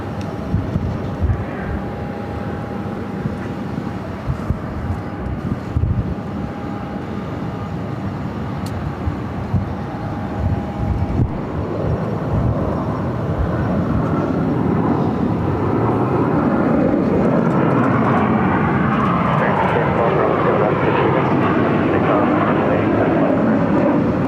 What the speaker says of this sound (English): the A330, number 3 for takeoff here on the south side